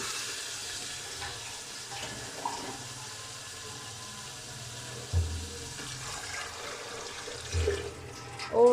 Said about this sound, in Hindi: अब हम इसके अंदर हस्बे ज़रूरत शोरबा लगा देंगे